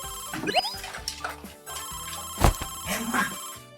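A phone ringtone rings in a repeating electronic melody, fairly close, with brief voices over it.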